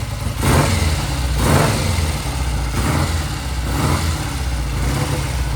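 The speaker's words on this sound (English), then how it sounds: "I'm going to rev it up here." A vintage British motorcycle engine idles loudly up close, with four evenly spaced rev blips rising and falling over a steady low rumble.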